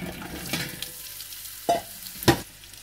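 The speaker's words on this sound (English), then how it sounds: "We're gonna saute the zucchini, a little bit of olive oil, a dab of butter, into the pan." Zucchini sautés in olive oil and a dab of butter in a pan, a soft low sizzle punctuated by a few distinct stirring scrapes and clanks, close and quiet, with no voices.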